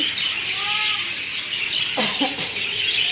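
Pet budgerigars kept indoors under a heat lamp in a small room chirp and twitter in a steady, busy chorus with short rising calls, fairly close and continuous throughout.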